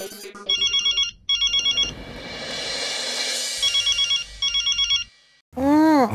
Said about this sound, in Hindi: इतनी रात को किसने फोन किया?